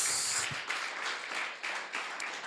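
Church congregation applauding together, a dense steady wash of clapping that swells and dips in small waves for a couple of seconds with no voices on top.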